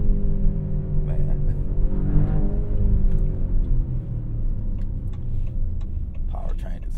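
A 2023 Maserati Grecale Trofeo sports SUV's engine revs and downshifts quickly in manual mode, a loud, steady drone with rising and falling pitch sweeps, heard from inside the cabin as a person speaks over it.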